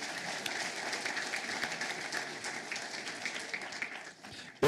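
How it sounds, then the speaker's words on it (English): Steady applause from a banquet crowd at a college athletics hall of fame dinner, a dense even patter of many hands that holds for several seconds before ending with a sharp louder burst. "a big round of applause for Kobe Johnson"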